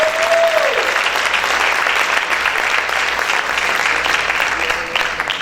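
A church congregation applauding for Jesus, dense, loud and continuous clapping throughout, with a brief voice at the start and faint background tones.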